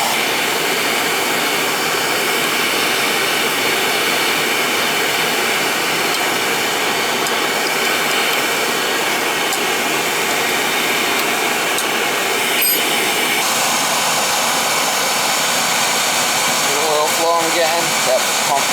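An oil-fired water heater burner runs with a steady, loud roar like a blower. It stays constant throughout while a person talks over it.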